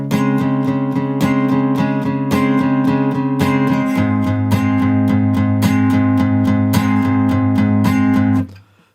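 Acoustic guitar in standard tuning playing the four-bar intro of a song, a repeating plucked pattern with crisp rhythmic strums, close and loud, fading out at the end.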